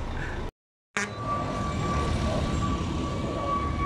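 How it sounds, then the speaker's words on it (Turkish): Airplane passing overhead at an outdoor Kurban Bayramı livestock market in Gaziemir, İzmir, a loud, steady engine roar with a brief cut early on, then a sustained drone. "Hala bir yandan uçak geçiyor"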